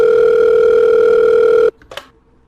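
A steady, loud telephone tone from the video game Five Nights at Wario's holds for under two seconds, then cuts off abruptly, followed by a couple of faint clicks.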